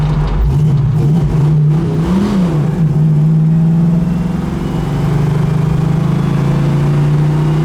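A 1975 Pontiac Trans Am engine pulls hard under acceleration while driving, its loud steady roar climbing through the revs with a brief shift dip before surging on again.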